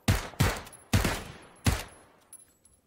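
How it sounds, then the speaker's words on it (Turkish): Rapid bursts of gunfire from the video game PUBG, four heavy booming shots in under two seconds, close and loud, trailing off into quiet. "Vuruyorum, iki tane yedi."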